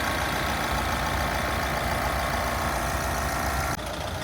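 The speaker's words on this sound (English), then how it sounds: "We've had the engine running for a couple of minutes." The diesel engine of a Vauxhall Vivaro van idles close by with a loud, steady, even rumble, and the tone changes slightly near the end.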